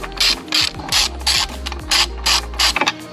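Ratchet wrench loosening 10 mm gas tank bolts on an Indian FTR 1200 motorcycle, a loud, close run of rapid clicking bursts, each repeated in a steady back-and-forth rhythm.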